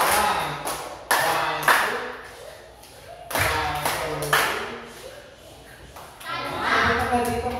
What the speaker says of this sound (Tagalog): So palakpakan natin sila ng palakpakan.